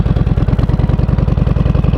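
A turbocharged motorcycle engine close up during a slow turnaround, a loud, fast pulsing thump at steady low revs with mechanical clatter riding on top.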